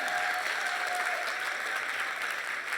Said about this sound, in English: Can y'all give another hand clap for Dr. Wallach?